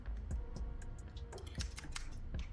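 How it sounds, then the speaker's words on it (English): Hairdressing scissors handled near the microphone while styling curly hair: a quiet series of sharp clicks and snips, several in quick succession, with no talk. "now let me grab my scissors."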